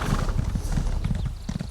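Horse hooves clip-clop at a steady galloping rhythm in The Elder Scrolls Online, loud and close throughout, with no talking over it.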